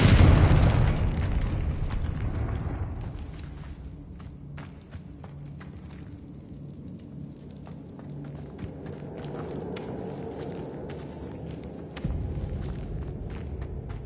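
Confringo blasting spell in a Harry Potter video game, a loud booming explosion at the start fading into a rumbling tail, followed by light crackling debris and footsteps.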